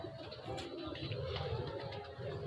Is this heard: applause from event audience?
no